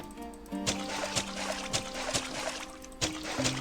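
Watering crops in the farming game Ancient Farm: soft pouring, splashing water effects repeat in short bursts over light game music, no talk.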